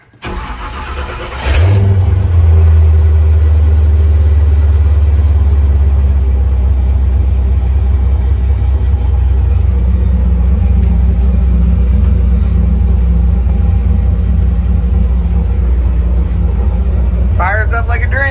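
An LS-swapped snowcat engine cranks briefly and fires, then settles into a loud, deep, steady idle rumble close by, with a faint metallic chatter near the end.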